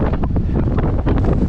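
Strong gusting wind buffets the microphone on a windswept outdoor walk, a loud continuous roar with surging rumble and no voices.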